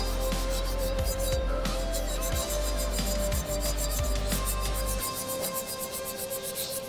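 Worn Scotch-Brite pad scrubbing an oily, coolant-soaked gasket surface on a 2006 Mercedes R350 engine, close repeated rasping strokes in an uneven rhythm, with no talking.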